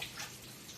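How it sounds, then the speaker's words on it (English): Tap water runs in a steady, soft hiss as hands are washed after handling fish in a home kitchen, a brief faint stream with no talking. "So I'm going to wash my hands from the fish"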